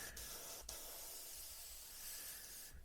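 Airbrush hissing steadily as it sprays paint over the panel joints of a Revell 1/32 He 111 model aircraft, a continuous soft close-up spray with a couple of brief breaks.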